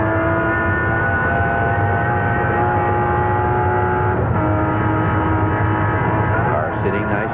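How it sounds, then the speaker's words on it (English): A racing car engine at Bathurst in 1985 drones loud and continuous, its pitch dipping and shifting as the engine overruns over bumps, with a commentator talking over it throughout. "You can hear the overrun of the engine when it just hits some of the bumps."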